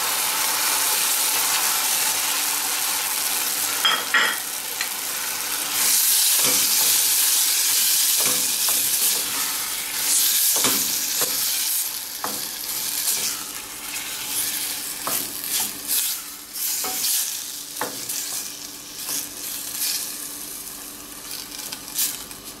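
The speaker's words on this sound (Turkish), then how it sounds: "soğanımız ve biberimiz öldükten sonra domatesimizi ilave" Chopped tomatoes sizzle in a pan with softened onions and peppers for papara, a steady loud frying hiss broken by repeated scraping and clacking of a spoon stirring, no voices.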